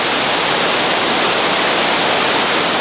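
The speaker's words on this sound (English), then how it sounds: "The upper part of the rapid, the entrance there, consists of a slick tongue riding down on 2 or 3 big waves." Roaring whitewater at the Bloody Nose rapid in West Virginia, a steady, loud, broad rush of churning water that never lets up.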